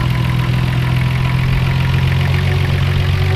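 A 1990 Nissan Skyline GTR twin-turbo engine idles steadily and close by, a continuous low rumble with an even, slightly lumpy beat and no talking.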